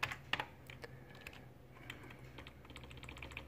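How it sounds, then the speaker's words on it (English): Quiet, close-up one-handed typing on a computer keyboard, with irregular clicking keystrokes and small bursts of taps over a low background hum, no speech. "I'm typing with one hand"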